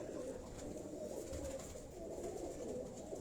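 A pigeon cooing softly on a rooftop, faint low coos over a steady background hum.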